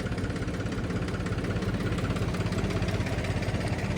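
An old turbocharged tractor engine idles steadily with a dense, even chugging rumble and a rough mechanical rattle, close and continuous throughout, with no voices.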